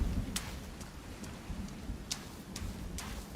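Rain falls in the forest survival game Sons of the Forest, a soft, steady patter with a low rumbling wash underneath, punctuated by a few sharp drip-like ticks, moderately quiet throughout.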